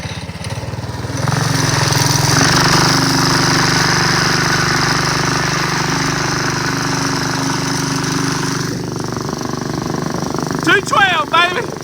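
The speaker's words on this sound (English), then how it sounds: "When the big go-kart breaks down, you get the mini bike to pull it." A mini bike with a 212 Predator engine and a jack shaft tows a broken-down go-kart, its small engine droning loud and steady for several seconds before easing off near the end.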